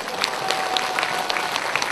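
An audience at a small outdoor concert in Ulsan applauds steadily, with a dense patter of clapping hands that continues without a break.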